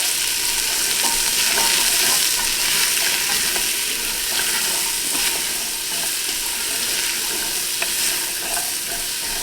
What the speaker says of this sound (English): we're going to go ahead and saute this for about 4 to 5 minutes